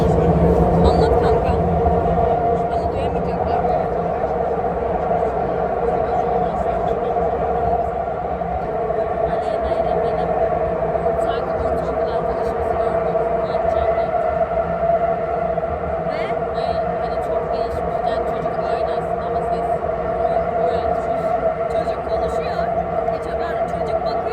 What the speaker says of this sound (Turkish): Şu an metroya bindik.